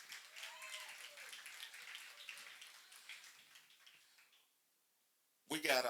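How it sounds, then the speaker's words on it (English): Applause for a performer at a youth leadership breakfast, a thin, distant patter of clapping that tapers off into near silence before a loud burst of sound returns at the end. "Come on, let's give him another round of applause."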